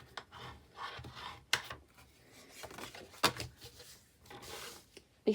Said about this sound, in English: we're just going to fold and burnish all of our score lines again